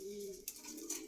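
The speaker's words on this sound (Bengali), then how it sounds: "কবুতর আছে আটটা," Domestic pigeons for sale at Meradia bazar in Rampura, Dhaka, give a low, steady coo that fades after half a second, followed by faint breathy market noise in the background.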